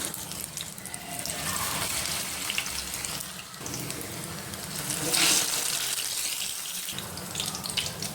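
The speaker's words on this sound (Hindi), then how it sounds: "इनको शैलो फ्राई करना है, डीप फ्राई नहीं करना" Cauliflower chapli kebabs shallow frying in oil over a low flame give a steady, close sizzling hiss that runs the whole time, with a brief brighter crackle partway through.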